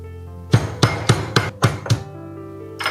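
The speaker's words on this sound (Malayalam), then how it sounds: "പിന്നെ നമ്മുടെ നാരകത്തിൻ്റെ ലീഫ്, ഒരു കതിർപ്പ് വേപ്പിലയും കൂടി ചേർത്ത് ചതയ്ക്കാം." Shallots, lime leaf and curry leaves are crushed for spiced buttermilk in six evenly spaced, solid pounding thuds, close and loud, followed by a brief pause.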